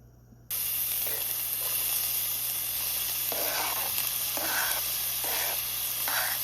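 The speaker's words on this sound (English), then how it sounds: "We're adding our onions and the garlic" Onions and garlic hit a thoroughly preheated pan with a sudden loud sizzle that then holds steady and close, with a few soft pulses of stirring over it.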